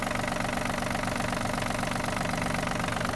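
A Yanmar RS-27 mini tractor's diesel engine idles steadily and evenly, a continuous low rumble with a faint rhythmic knock, close by, with no talking.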